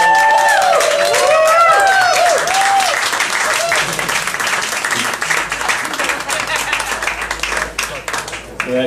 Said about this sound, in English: please give a lovely round of applause